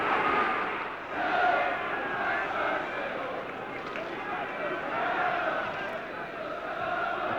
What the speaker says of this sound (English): answering the catcalls of the Derby crowd as the players prepare to kick off.